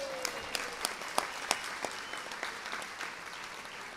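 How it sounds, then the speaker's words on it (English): An audience at a bar association annual meeting claps together in sustained applause, with a few sharper individual claps standing out above the steady patter and no talk over it. "Say, give your round of applause."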